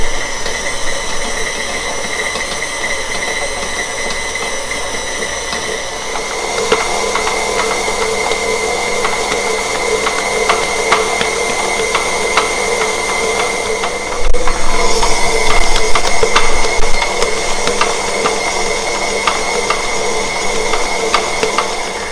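A stand mixer kneads soft pan de sal dough with added butter at medium speed, giving a continuous motor whir with faint rhythmic knocks that grows louder and busier partway through, with no voices.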